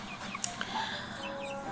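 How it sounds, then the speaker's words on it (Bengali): Chickens on a small backyard poultry farm at feeding time, with scattered soft clucks and brief calls over a steady low background hum, moderately faint with no talk. "আমার একটা ছোট্ট মুরগির খামার আছে"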